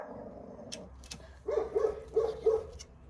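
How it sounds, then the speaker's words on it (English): Dogs bark outdoors in a short burst, three or four fairly close woofs coming in quick succession after a quiet opening. "but if you hear the dogs barking a lot."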